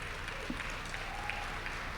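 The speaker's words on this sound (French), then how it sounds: "je pense que ça vaut encore une main d'applaudissement" Faint, distant applause from an awards gala audience honoring Mona Fortier, a soft steady patter of hands across two seconds with no voices standing out.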